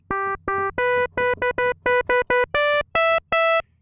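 A quick run of bright, metallic synth notes from a modular synth in Caustic that climbs in pitch, with short and longer tones in an uneven melodic rhythm.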